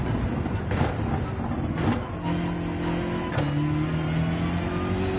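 An NSX race car in a racing video game passes with a rising engine note, engine drone and tonal whine shifting in pitch over several seconds, with a few sharp transients along the way.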